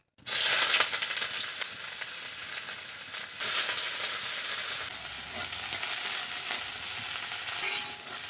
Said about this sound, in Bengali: তেলটা গরম হয়ে গেছে, এখন আমি দিয়ে দিচ্ছি পেঁয়াজ কুচি